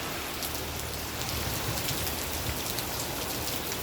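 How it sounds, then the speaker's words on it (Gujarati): Steady, dense rain falls throughout, a close, even hiss with small drops pattering on surfaces, and no voices. "જો મિત્રો જો વરસાદ ચાલુ છે કે નહીં."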